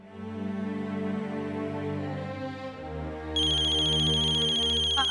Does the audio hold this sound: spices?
no